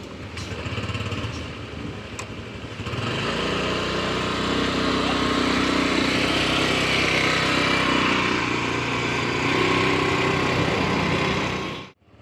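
A motorcycle engine runs steadily while riding at a constant 9 km per hour, a buzzing mid-pitched drone that holds an even level for several seconds before cutting off abruptly.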